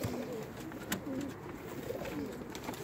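Baby Pakistani high-flying pigeons coo softly and continuously in a loft, low murmuring calls repeating over steady background noise.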